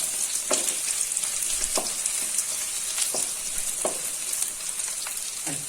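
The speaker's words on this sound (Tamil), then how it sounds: "வெங்காயம் இந்த மாதிரி கொஞ்சம் நல்லா வதங்கிக்கிறணும்." Onions sizzle and fry in a pan with curry leaves for a Tamil egg gravy, a steady close hiss with occasional stirring scrapes, no talking.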